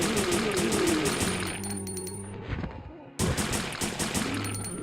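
Handgun B from a Resident Evil game fires in rapid bursts of sharp, loud, clattering shots with metallic clinks. A brief quieter gap falls mid-sequence before another dense volley.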